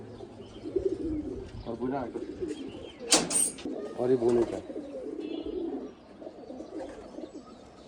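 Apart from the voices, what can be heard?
pigeons cooing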